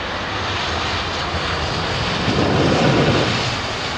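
Older Aer Lingus jet airliner at London Heathrow Airport, its engines roaring loud and steady and swelling briefly as it passes close by, with no talk.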